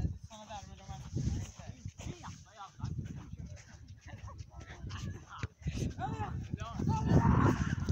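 A cow moos several times amid outdoor chatter, with people talking and laughing over the lowing throughout.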